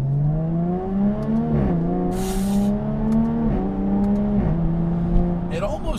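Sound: Jaguar F-Type V6S coupe engine and exhaust revving

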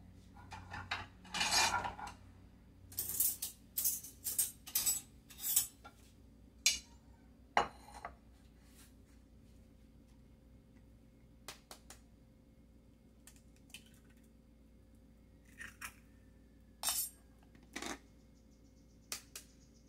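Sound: beating eggs for breading tilapia fillets

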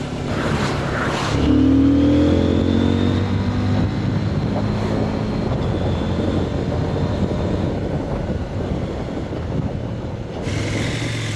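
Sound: CFMOTO 800MT motorcycle engine on rainy test ride

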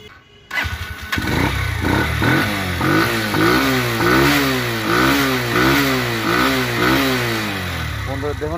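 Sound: 100cc motorcycle engine revving

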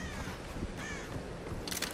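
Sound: crow cawing in the video game Tomb Raider 2013

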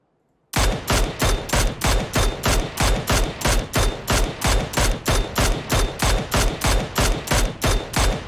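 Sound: gunfire in the video game PUBG

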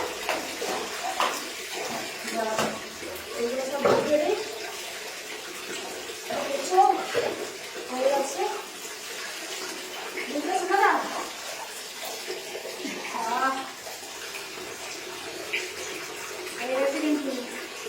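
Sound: water poured during a child's bath

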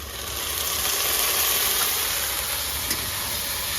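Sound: ginger garlic paste sizzling in hot pan

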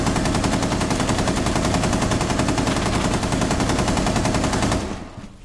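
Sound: gunfire in Rainbow Six Siege video game

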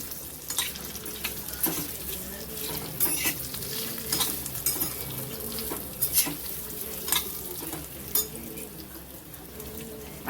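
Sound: colocasia leaf rolls (mutki) being pan-roasted until crisp

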